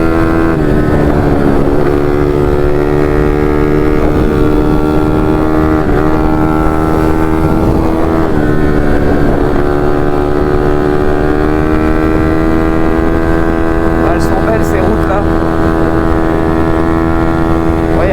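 A 150 RXF motorcycle engine runs steadily while riding, a continuous harmonic drone holding near and loud for the whole stretch, with gentle rises and dips in pitch as the throttle shifts.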